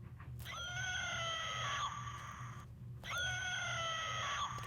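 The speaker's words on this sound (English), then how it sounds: "if you got this, you can hear the scream if it'll pick it up" Prolonged shrieking scream played from an Evil Dead 2 Book of the Dead DVD edition, two long wavering cries separated by a short pause, faint and thin as if coming from a small novelty speaker.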